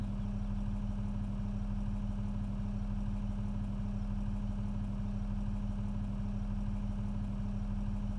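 A tractor engine idles steadily in the Cattle and Crops farming video game, a continuous low mechanical hum with a constant, even drone throughout and no voices.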